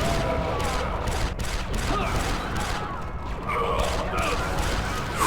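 Super battle droid wrist rockets firing in the Star Wars Republic Commando video game: dense, continuous battle clatter with bursts and mechanical rattles, loud throughout, with no pause.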